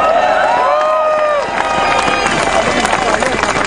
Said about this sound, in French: Je crois qu'ils méritent une bonne main d'applaudissement.